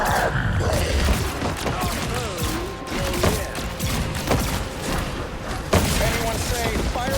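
Rocket barrage explosions in the Overwatch video game form a dense, continuous clatter of rapid booms and thuds lasting throughout, with game voices and effects layered over the blasts.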